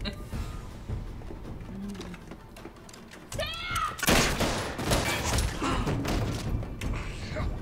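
Dense bursts of gunfire from a Battlestar Galactica episode play in a rough, noisy stretch, with thuds and rapid overlapping shots swelling in the second half while people talk over the scene.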